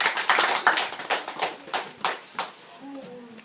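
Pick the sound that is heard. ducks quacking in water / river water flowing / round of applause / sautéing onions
round of applause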